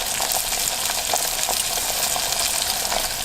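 Chicken skin frying in hot oil in a small pot, turning golden brown: a steady, close, crackling sizzle with dense popping that holds even throughout.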